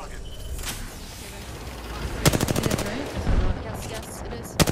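Rapid automatic gunfire bursts in the shooter game Apex Legends, a quick string of sharp shots followed by another short burst and a final shot, mid-loud, with a player talking over the game audio.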